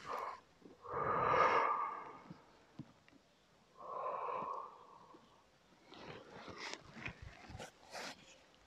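Repeated yawns during a yoga class, two long breathy yawns spaced a few seconds apart, followed by quieter rustling and short breaths, all faint and close.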